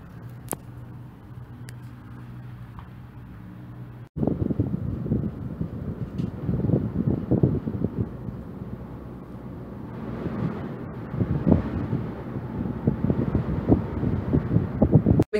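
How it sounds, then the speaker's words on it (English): Strong wind buffets a cable car station above Funchal, Madeira, in loud gusty rushes that pick up suddenly after a few quiet seconds and keep roaring without a break. "it's getting very windy suddenly"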